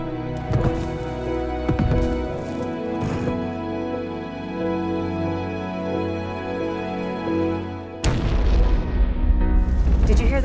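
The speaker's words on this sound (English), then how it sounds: "Explosion?" A dramatic explosion from a Heartland ranch-drama scene, a sustained tonal music bed punctuated by heavy booming hits, then a sudden loud roaring blast that bursts in near the end.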